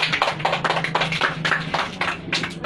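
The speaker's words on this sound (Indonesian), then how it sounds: "Tepuk tangan." Children in a classroom clapping together in a brisk, continuous round of applause, close and fairly loud, lasting a few seconds with no talking.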